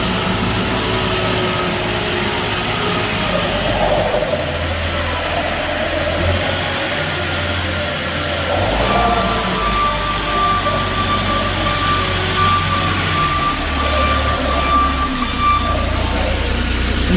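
A 2016 Moffett M8 truck-mounted forklift with a 12-foot mast drives around, its mid-pitched engine droning steadily nearby and rising and falling with throttle, with no talking.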